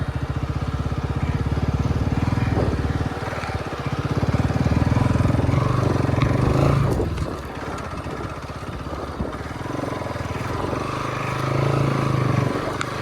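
Bajaj NS200 motorcycle ridden in second gear carrying a pillion passenger, a steady close engine drone rising and easing with the throttle over rough ground.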